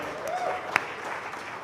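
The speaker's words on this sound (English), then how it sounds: "Put your hands together for him." A quiz final audience applauds, a brief, fairly faint burst of crowd clapping with a voice over it.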